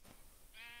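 A Minecraft sheep begins a bleat near the end, and the wavering call rises clearly over faint game ambience with no voices.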